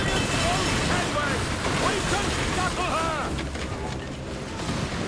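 Ship cannons firing a broadside in a Total War naval battle, a dense run of booming shots over rushing wind and water, with a voice over the gunfire.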